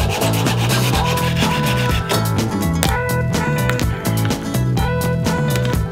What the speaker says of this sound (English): So this is just a little tiny hacksaw.